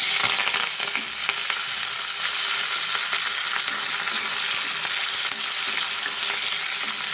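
Onion, green chili and curry leaves fry in oil after mustard seeds, cumin and dried red chilies, giving a steady, close, dense sizzle with faint stirring scrapes throughout and no talking.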